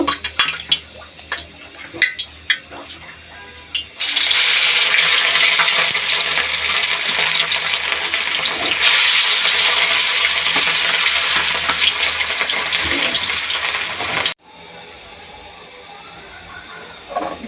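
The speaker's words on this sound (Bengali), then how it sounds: "মাছগুলো ভেজে নেব।" Rohu fish pieces, coated and rested, hit hot oil in a karai with a sudden loud, dense sizzle that holds for about ten seconds before dropping back to quieter kitchen sounds.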